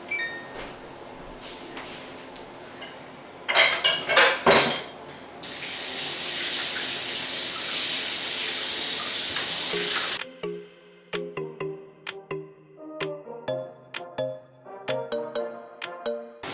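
A dish crusted with dried, cold meatball gravy is washed at a kitchen sink: a few soft knocks, then a strong rush of tap water for several seconds, followed by scattered clinks and scraping of the dish.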